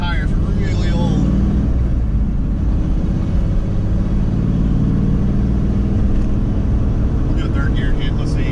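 Supercharged LT1 engine on a 2-bar tune pulls at wide open throttle in second gear on old tires, a loud, steady roar and drone that fills the whole stretch, with someone talking over it.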